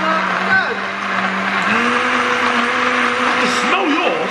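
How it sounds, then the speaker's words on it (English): A blender whirs loudly while mixing a milkshake with ice, its motor holding a steady pitched drone that shifts in tone partway through, close to the mic, with people talking over it. "It's the blender."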